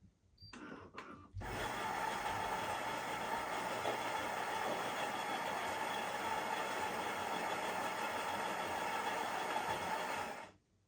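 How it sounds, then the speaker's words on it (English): A Philips 5500 coffee machine's grinder starts after a few brief clicks, then runs as a loud, steady whirring buzz for about nine seconds before cutting off. "the grinder noise is approximately around 59-60 decibels"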